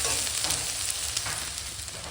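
Whole cumin seeds sizzling and crackling steadily in hot oil, a close, loud, continuous fry with small popping bursts throughout and no voices.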